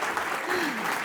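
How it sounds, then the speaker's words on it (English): Audience at a Baker Street meetup gives a big round of applause, a dense steady clatter of many hands filling the room, with a voice briefly rising over it. "give a massive round of applause"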